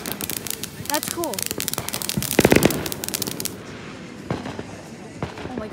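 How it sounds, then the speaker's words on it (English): Fireworks bang and crackle outdoors on the Fourth of July in rapid, irregular bursts, with one loud close blast near the middle, then scattered pops and crackling fade; people's voices are heard amid the explosions. "We're lighting another firework."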